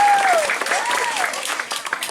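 An audience applauds a bondres comedy performance in Penarungan, broad crowd clapping running the whole time, joined by a sliding whistle-like tone and some mixed voices or music in the background.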